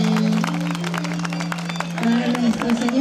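Guests at a 70th birthday celebration in Huayllay Grande clap and cheer in a lively burst, with voices calling out over a sustained tone. The clapping swells again near the end.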